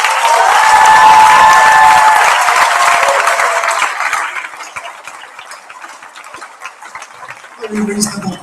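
A school prizegiving audience breaks into loud, full hall applause that swells for a few seconds, then thins out into scattered claps before a voice starts talking.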